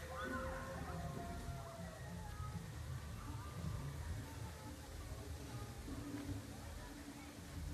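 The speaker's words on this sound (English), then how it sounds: "Right now, we're going to go on a river ride." Water sloshes and splashes steadily on a theme park river raft ride at Animal Kingdom, a continuous wash of churning water with voices talking over it throughout.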